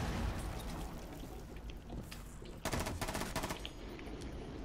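Rapid bursts of gunfire ring out in a tactical shooter game, a quick cluster of close shots after a stretch of quieter rumbling background, with no talking over them.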